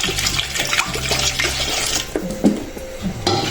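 A small splash of water poured into a pan of vegetables for a soup, with watery pouring and stirring noises over kitchen clatter, moderately loud and close.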